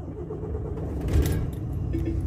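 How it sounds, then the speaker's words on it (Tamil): A MAN truck's diesel engine cranks and catches about halfway through, settling into a low rumbling idle, with a faint jingle of keys near the start of the cranking. "ஓகே இப்போ நம்ம வண்டியை ஸ்டார்ட் பண்ணுறோம்"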